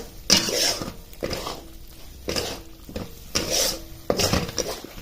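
A metal spoon scrapes and clatters in a pot while dry spice powders are stirred into a ground paste, in repeated rhythmic strokes with brief pauses between them, close and clear.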